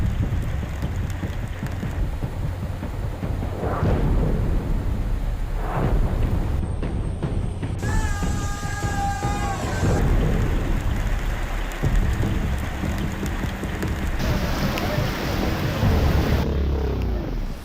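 Heavy monsoon rain pours down in Gujarat during flooding, a dense continuous roar with low rumbling that suggests thunder, loud throughout with brief whistling tones partway through.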